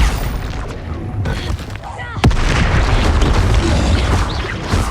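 A Confringo explosion spell in the Hogwarts Legacy video game bursts with a sudden loud boom partway through, followed by a dense, sustained rumbling roar.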